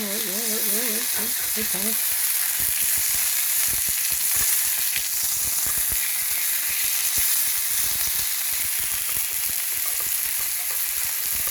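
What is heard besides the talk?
steak sizzling in a skillet after being flipped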